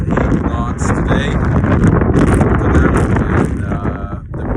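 Strong wind gusting to 38 knots roars and buffets the microphone nonstop, a loud rough rush beside a Mooney light aircraft.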